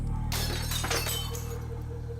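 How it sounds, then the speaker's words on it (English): Glass shatters in a sudden loud crash, followed by a scatter of smaller tinkling fragments that fade over about two seconds, heard alone over a low steady hum. "there was a sound of broken glass"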